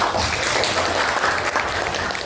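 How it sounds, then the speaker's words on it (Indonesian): A classroom of children claps together in steady, continuous applause at a school morning session, dense and fairly loud throughout without pauses. "tepuk tangan untuk kita semua"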